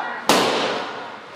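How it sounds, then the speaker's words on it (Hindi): A balloon bursts with one loud, sharp pop at a new house's opening celebration, followed by a brief noisy ring-out in the room. "बेटा फोड़ फोड़ और फोड़ एक भी फुग्गा बचना नहीं चाहिए"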